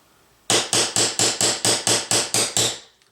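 A hammer taps track into place on an HO model train layout, ten sharp evenly spaced knocks in quick succession, close and clear with no talk.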